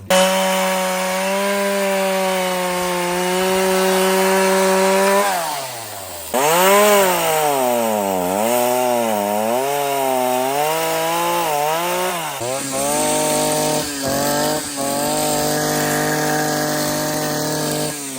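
A chainsaw cuts down trees in a Jamaican yard, running loud and close with a steady idle, then revving up and down repeatedly as it bites into the wood.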